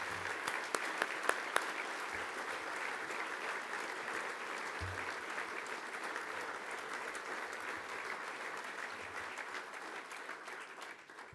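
Steady applause from a large audience at a gala fills the room, continuous clapping that holds for several seconds before tapering off at the end.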